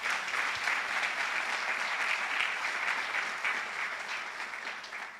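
A church congregation claps hard for the Lord after a sermon, a steady, dense burst of applause filling the room at a fairly even level before easing slightly at the end.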